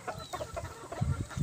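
Chickens cluck softly in short, irregular bursts in a backyard farm, fairly close, with low thumps mixed in.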